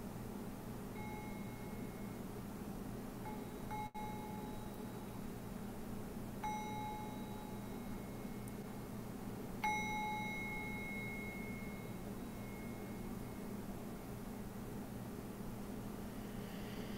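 A meditation bell is struck three times at the close of a session, each stroke a clear, sustained ring fading slowly over a soft, quiet background.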